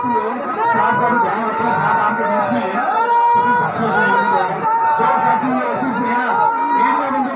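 Large crowd of Congress party workers in Barmer city gathered to garland Mewaram Jain after his return to the party, a dense steady hubbub of chatter and shouting voices close around, with occasional cheers rising from the babble.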